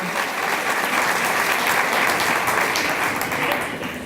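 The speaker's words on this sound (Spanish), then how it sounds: "Un aplauso al padre." An audience at a national leaders' gathering applauds a priest, a dense, loud, sustained clapping that holds steady and tapers slightly at the end, with no voices over it.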